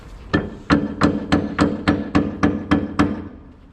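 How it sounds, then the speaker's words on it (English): A hammer strikes nine times in a steady, even rhythm while being used to pull something out. Each blow is a sharp, close, loud knock. "This is the hammer I normally use, just to put over there and pull them out."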